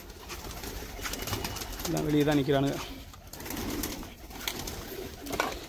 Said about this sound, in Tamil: புறாக்கள் பார்ப்போமா?